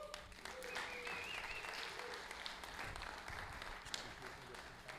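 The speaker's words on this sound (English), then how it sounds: "let's get a big round of applause for our friends and real estate leaders in our industry, Collin Schwartz and Jason Belt." Steady applause from an audience at a real estate investors' meeting, honoring two industry speakers; dense continuous clapping holds at an even level for about five seconds with faint crowd murmur beneath.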